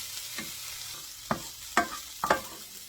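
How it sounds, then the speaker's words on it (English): A teaspoon of garlic cooks in a pan for cabbage patties, giving a quiet frying hiss broken by four or five sharp stirring scrapes and clacks spread across a few seconds. "I'm only using a teaspoon of garlic in here. I'm going to cook that for a minute and take it off."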